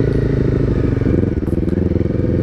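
A Honda CBR300R motorcycle engine-braking downhill, a steady, loud, low engine drone with a fine pulsing rumble running unbroken throughout, no voices.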